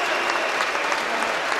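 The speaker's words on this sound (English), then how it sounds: "And listen to that cheer, which is specifically now for Willie Limond." An arena crowd at a 2007 boxing match cheers and applauds boxer Willie Limond after his broken-jaw withdrawal, a dense, loud, unbroken wash of clapping and noise.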